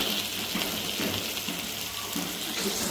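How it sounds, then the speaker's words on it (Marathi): Water poured from a vessel into a pan of cashew curry makes a steady, close splashing gush that runs on without pause, with no talk over it. "आता आपण थोड्याला पाणी टाकायचं."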